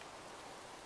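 Night rain in Minecraft, a faint, even hiss of falling rain with no distinct drops, steady throughout the short moment.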